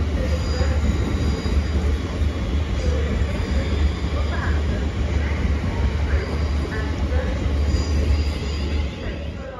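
London Northwestern Railway passenger train on the service to London Euston running through Stafford station, a steady loud rumble of wheels on rail with faint squeals throughout, close and continuous.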